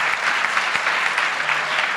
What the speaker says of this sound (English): But a big round of applause for them.